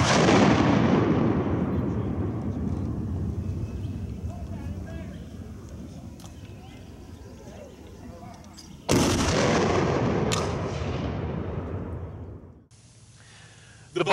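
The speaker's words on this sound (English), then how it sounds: "ships were trading fire back and forth, the Albemarle sporadically firing as each Union ship passed" Civil War naval cannons fire between the ironclad Albemarle and passing Union ships: a loud, deep boom opens and rolls into a long fading rumble, followed by two more heavy blasts close together near the end and a final sharp report.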